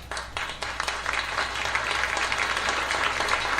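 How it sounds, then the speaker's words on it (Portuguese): Studio audience applauding steadily after guests are thanked on a Brazilian talk program, a dense wash of clapping that stays fairly even and close throughout, with no voices over it. "Aplausos merecidos, né?"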